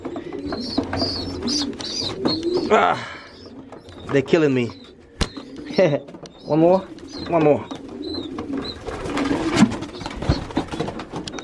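Pigeons coo in repeated soft throaty phrases close by, with some chirps in between, while a person speaks briefly over them.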